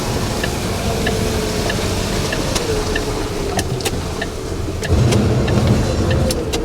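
A truck engine climbing a steep hill on narrow Devon lanes holds steady, droning revs under strain, with faint intermittent clicks and rattles over the continuous hum.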